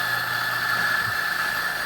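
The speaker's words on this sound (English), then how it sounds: "Let's get this grinder going." A Quamar M80 stepped espresso grinder runs steadily throughout, giving a constant close motor whine with a fixed high-pitched tone above a low hum.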